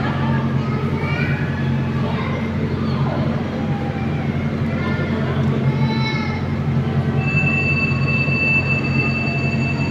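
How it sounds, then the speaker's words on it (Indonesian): A Whoosh high-speed train at a station on the Halim–Tegaluar route, a steady low rumble with faint squeals and tones as people talk and children's voices drift through the background. "Dan kereta yang dari Halim ini akan melanjutkan perjalanan menuju Tegaluar."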